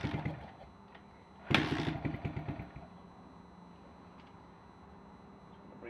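A Kawasaki KLX 110 dirt bike engine being revived catches with a sharp burst, revs briefly in a few pulses, then settles into a low, steady idle close by.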